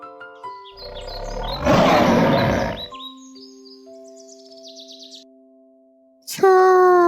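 A leopard lets out a single loud, rasping roar lasting just over a second. Chirpy synthetic tones and sustained musical notes sound before and after it.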